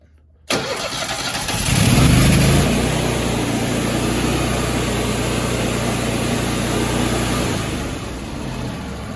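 A Kohler engine on a Grasshopper 227 mower starts abruptly, briefly revs up, then settles into a steady, close, loud idle that runs on without fading.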